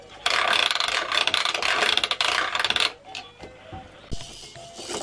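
A spinning baby toy whirls with a rapid, steady run of ratchet clicks that stops abruptly, followed by a few sparse clicks and a small clack, heard close up.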